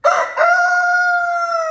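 A rooster crows nearby, one long loud cock-a-doodle-doo with a brief break near the start and a sustained drawn-out ending.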